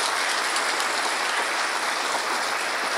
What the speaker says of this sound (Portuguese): uma salva de palmas para todos vocês